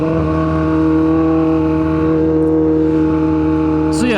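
A 1000cc motorcycle engine drones loud and close while being ridden, holding a steady tone with rising revs near the end.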